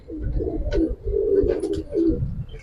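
Giribaz coloring pigeons, silver colored, coo up close in low, throaty, rolling bursts, several overlapping calls in quick succession with brief pauses, loud and clear with no speech.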